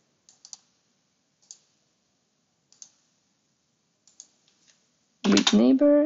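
Computer keyboard keys click in a few sparse, isolated taps, some in quick pairs, before a voice starts talking near the end.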